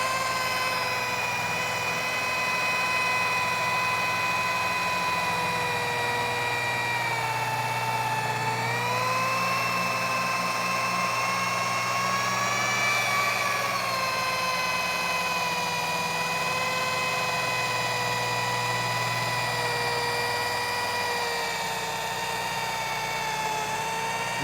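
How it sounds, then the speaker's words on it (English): A Barjack rotary polisher fitted with a microfiber pad runs at a middle speed setting on car paint, giving a steady, close electric whine with slight pitch shifts as pressure changes. "Then we'll turn up the polisher between the 3rd and 4th speed setting, and we'll start to polish."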